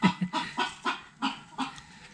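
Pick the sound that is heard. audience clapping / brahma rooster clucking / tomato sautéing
brahma rooster clucking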